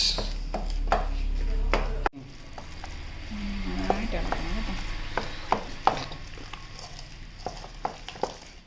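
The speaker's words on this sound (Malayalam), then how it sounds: "ഇനി ഇത് നമുക്ക് ഇങ്ങനെ നന്നായിട്ട് ഇങ്ങനെ ഇളക്കി ഇളക്കി കൊടുക്കണം" Jackfruit mash cooked without water is stirred in a pan. A spoon knocks and scrapes irregularly against the vessel at close range, with a low hum early on and a voice briefly in the background.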